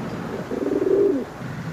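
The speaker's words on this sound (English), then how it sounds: "The pigeons." Pigeons cooing indoors in a wartime setting, a single soft, rolling coo about half a second long, close and fairly clear against a low background hum.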